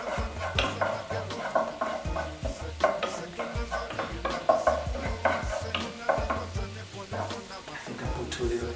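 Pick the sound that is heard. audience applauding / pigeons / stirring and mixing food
stirring and mixing food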